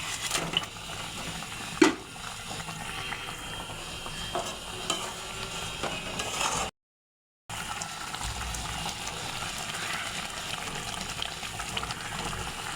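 Fried rohu fish goes into a boiling curry gravy of spiced masala and hot water, with a sharp splash near the start followed by steady close bubbling and sizzling, briefly cut out by a second of silence.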